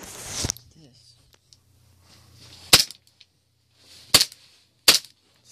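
A KWA TT33 airsoft pistol fires one sharp crack, then after a long quiet gap three more crisp shots come at uneven intervals, close and loud, with small handling clicks and a faint low hum between them.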